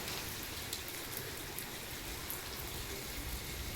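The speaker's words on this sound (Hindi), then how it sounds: "तो बहुत ज़ोर की बारिश आ रही है।" Heavy rain pours down steadily in a dense, even hiss of countless drops striking surfaces, unbroken and without voices.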